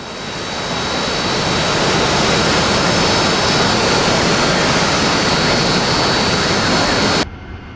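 Steady, loud jet engine roar from a heavy aircraft taxiing in DCS World, a broadband whine with a faint high tone holding for about seven seconds before dropping off abruptly at the end; no voices.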